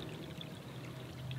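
Water running down through drainage ground on a graded outdoor site, a steady close pouring and trickling flow with a faint hum beneath it, unbroken for its short length.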